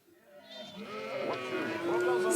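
Sheep bleat in a wavering, rising chorus that grows louder over a couple of seconds, with a voice speaking alongside.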